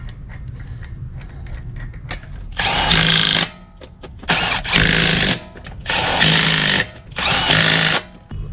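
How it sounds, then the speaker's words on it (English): An impact-style power tool fastens lug nuts onto a vehicle wheel during a wheel spacer install, running in four loud, close bursts of rapid hammering separated by short pauses with faint ticking between them. "put your lug nuts back on"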